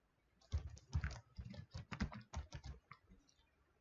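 Keys on a computer keyboard clatter in a quick, irregular run of taps as a custom password is typed, close and crisp in a quiet room with no voices.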